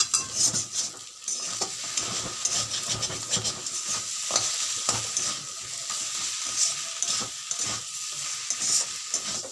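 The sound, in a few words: stirring cabbage curry with sugar and ghee in a pan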